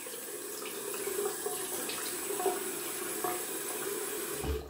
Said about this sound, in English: I'm gonna take some cold water and add it to my face.